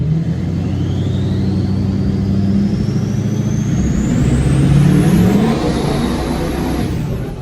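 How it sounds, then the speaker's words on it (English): A Duramax diesel truck in four-wheel drive runs a dirt test with boost raised to about 12 PSI. Its engine drones and rumbles loudly and steadily from start to finish, with a rising whine as it pulls harder. "This is the dirt test. 4-wheel drive. We'll go ahead and bring up the boost to about 12 PSI."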